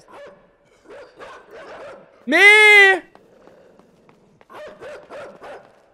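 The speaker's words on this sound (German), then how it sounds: "Nee, da ist ein Hund." A dog in the video game Inside lets out one loud, drawn-out bark that rises above a man's intermittent speech before and after it.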